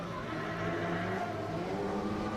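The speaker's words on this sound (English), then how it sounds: "See him dab the handbrake as he puts foot to floor." Drift car at a British Drift Championship round at Three Sisters, engine droning hard at full throttle after a handbrake dab, a steady loud mechanical roar that lasts briefly and shows no talk.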